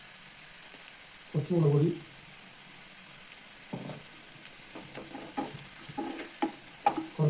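Onions sautéed in a frying pan as turmeric, chili, garam masala and pepper powders go in for an egg curry, with short stirring scrapes and a soft sizzle under a voice talking in Malayalam.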